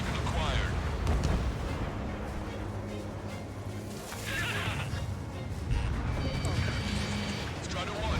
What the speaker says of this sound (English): Strider 1, missile away. Missile hit.